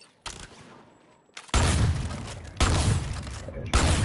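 A shotgun in a video game fires several heavy blasts a second or so apart, loud, close and booming, each followed by a sustained noisy tail, with a brief quieter gap after the first shot.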